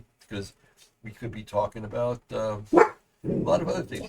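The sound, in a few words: Chiweenie dogs barking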